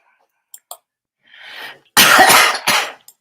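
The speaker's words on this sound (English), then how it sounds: "Sorry for the coughing." A couple of short coughs, then a louder burst of harsh coughing up close, with a faint breathy sound in between.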